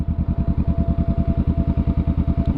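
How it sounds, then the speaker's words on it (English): Motorcycle engine idling or rumbling close by on a rural road, with a steady, fast, loping pulse running unbroken throughout and no talk. "I see a lot of motorcycles up here."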